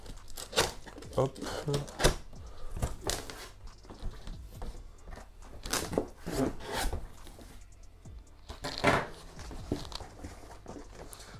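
Packaging for a VTOMAN FlashSpeed 1500 portable battery is handled and torn open, giving repeated close rustling, rubbing and scraping bursts of cardboard and plastic, with a voice speaking briefly between them.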